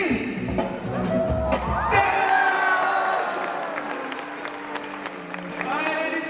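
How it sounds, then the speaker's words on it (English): Audience members at a sea lion splash show at Singapore Zoo clap, cheer and whoop in a loud burst that fades. Voices and a shout rise over the crowd noise. "Big round of applause."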